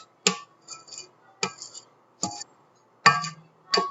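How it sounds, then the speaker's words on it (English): A blender beater, still coated in chocolate Bûche de Noël batter, is knocked against the sides of a bowl, making five sharp, bright clinks spaced irregularly with short ringing tails and quiet gaps between them. "Knock the sides to get all that goodness off."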